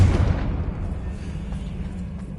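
A Confringo fire spell blast in Hogwarts Legacy: a single deep, close explosion that hits hard at the start, then fades into a low rumbling tail without speech.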